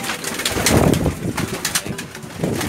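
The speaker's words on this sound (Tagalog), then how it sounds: "Ayan mga kalapatids." Pigeons coo steadily at close range in a loft, their soft repeated calls swelling and fading with occasional wing flutters, and no one speaks.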